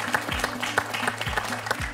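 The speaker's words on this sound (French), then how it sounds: "On peut l'applaudir Agnès pour cette belle partie" Studio audience applause on a French TV quiz show, a steady rhythmic clapping with regular accented beats, loud and close, with no talk over it.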